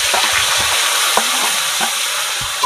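A paste of ground dried chilli, ginger and cumin is sautéed for a potato and cauliflower curry, giving a loud, constant sizzle with soft stirring scrapes now and then.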